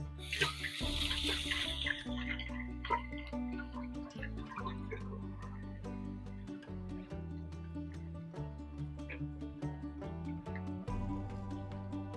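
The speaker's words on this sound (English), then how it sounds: "Rinse my hands again." Hands rinsed under a running kitchen tap while cooking, a brief burst of splashing water at the start, then fainter trickles under steady background music.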